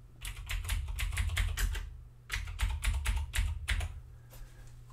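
Quick bursts of typing on a computer keyboard, two runs of rapid clicking keys separated by a short pause, close and fairly quiet with no talk.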